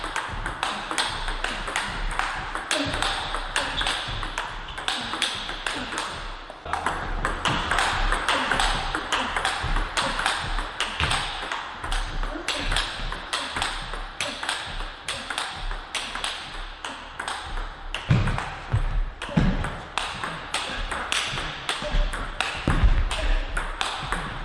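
A table tennis ball is struck with a racket fitted with Butterfly Resina rubber in a quick, steady rally, giving a long run of sharp, close pings and taps.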